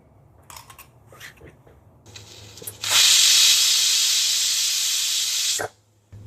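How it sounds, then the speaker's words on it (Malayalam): A pressure cooker, switched off after its second whistle, vents its steam in one loud, steady, close hiss lasting about three seconds before cutting off abruptly, with faint kitchen noise before it. "രണ്ടാമത്തെ വിസിലും വന്ന് ഞാൻ ഓഫ് ചെയ്തിട്ടുണ്ട് കേട്ടോ. ഇനി അതിന്റെ ആവി മുഴുവൻ പോട്ടെ."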